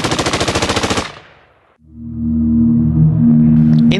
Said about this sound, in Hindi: बेअंत को देखकर सतवंत ने भी मशीन गन से गोलियां दागना शुरू कर दिया।